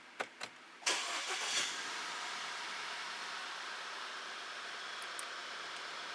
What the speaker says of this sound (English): Okay, so we will start the car.